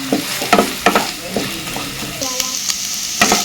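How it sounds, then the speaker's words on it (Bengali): An egg fries in a hot pan with a loud, close sizzle, punctuated by sharp scraping clicks from a spatula stirring it over about three seconds. "এখন আমি ডিমটা ভেজে নেব।"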